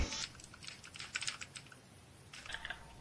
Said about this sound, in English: I like the sound of my keyboard.